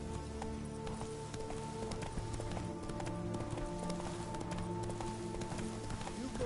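Geralt's horse Roach gallops in The Witcher 3, a steady rhythmic clip-clop of hooves over a layer of game background sound, continuous and fairly close throughout.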